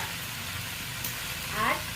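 Chopped pumpkin sizzles as it is added to a hot pan of prawns, chilli, onion, tomato and ginger paste, a steady close frying hiss with a slight swell near the end.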